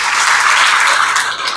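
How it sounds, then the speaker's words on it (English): Continuous applause from an audience at a small business awards reception, a dense steady wash of clapping throughout that tapers slightly at the end. "Let's give them a round of applause, please"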